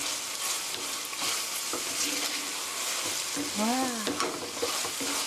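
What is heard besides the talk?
stirring soy sauce chicken in a frying pan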